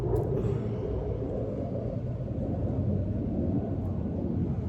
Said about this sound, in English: I think the plane's gone.